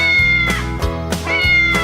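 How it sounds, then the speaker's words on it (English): A cat meows three times in a steady rhythm, loud and close, over a light musical backing. "the cats go as they chase the little mice"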